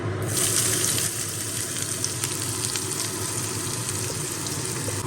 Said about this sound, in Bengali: আমি 2 চামচ সাদা তেল গরম করতে বসিয়ে দিয়েছি। এবার আমি এর মধ্যে পেঁয়াজ কুচিটা দিয়ে দেবো।